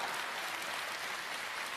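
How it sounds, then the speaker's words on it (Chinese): Steady, dense applause from a live audience at a Chinese crosstalk comedy show, sustained and fairly loud throughout the short burst with no voices over it. "可以鼓掌了"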